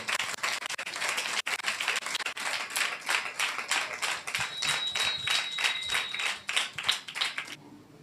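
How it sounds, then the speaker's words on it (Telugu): A church congregation claps in steady unison, a brisk, even beat of loud hand claps that carries on for several seconds before stopping. "కొట్టు చప్పట్లు ఎలాంటి దేవుణ్ణి కలిగి ఉన్నా"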